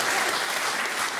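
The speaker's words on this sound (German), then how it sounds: "Der Applaus gehört euch." Steady applause from a crowd, dense and fairly loud, continuing without a break through the whole short stretch.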